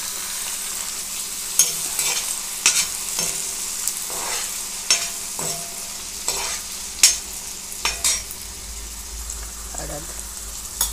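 Tomatoes frying and being stirred in a pan with ginger, a soft steady sizzle broken by irregular scraping clinks of a spoon against the pan.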